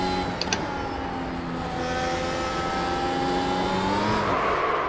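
Race car engine screaming at sustained high revs around Interlagos in iRacing, a steady loud drone with rising harmonic whine and no pauses, heard alone.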